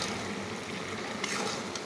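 Turmeric, chili and cumin powder fry in a pan for a traditional Bengali village-style fish curry with ridge gourd, giving a steady, dense sizzle that carries on without a break and brightens briefly partway through.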